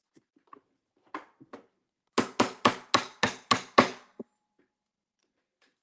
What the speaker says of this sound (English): I'm just trying to get this gear to come out